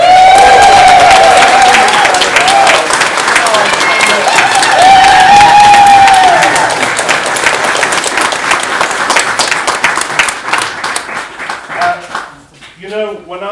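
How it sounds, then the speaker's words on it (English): A concert audience applauds its soprano soloists at a Christmas performance, loud sustained clapping with some cheering, while a voice rings over it before the clapping thins and a person begins talking near the end. "Can we have a big round of applause?"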